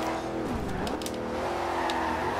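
A car drifting in the racing game Forza Horizon 2, its engine droning loudly and steadily with a brief pitch dip and faint tire noise, no talk.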